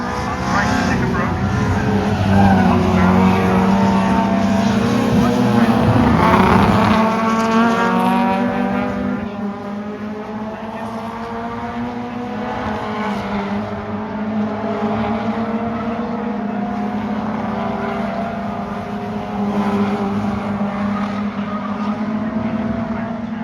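Race cars compete in a time attack event, engines roaring loud as cars pass close, then fading to a steadier, more distant drone while a commentator talks over them.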